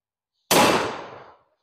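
A Stoeger 10 gauge side-by-side coach gun with short barrels fires a single loud, sharp blast that booms and then rolls away over about a second, with silence before it.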